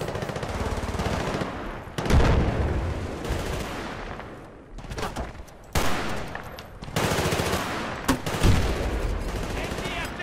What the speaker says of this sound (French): Il y a un mec là-bas qui me tire dessus.